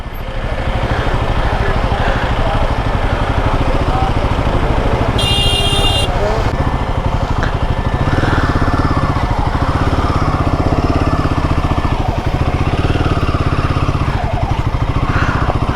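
A motorcycle engine runs steadily with a close, even putter while being parked in the Amber Fort parking area in Jaipur, with people talking over it.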